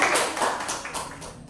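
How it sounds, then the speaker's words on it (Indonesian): A classroom group claps in a short burst of applause for the first group to present, with quick overlapping hand claps that fade out within a second or two. "Kita tepuk tangan dengan semangat dulu buat kelompok 1"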